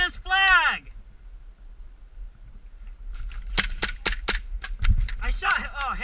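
Airsoft gun fired during a flag game outdoors: a quick burst of several sharp, close snapping shots in a rapid irregular rhythm, with voices talking before and after.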